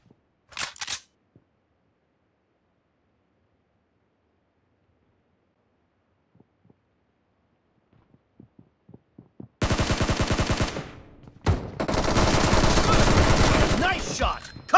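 Gunfire in a BGMI team deathmatch, with a brief burst early on, a few faint clicks, then loud rapid automatic fire in two long, sustained bursts near the end.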